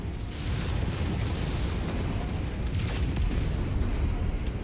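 Rumbling, roaring explosion in the mech combat game MechWarrior 5: Mercenaries, a sustained loud low boom with crackling debris that fills the whole stretch without any talk over it.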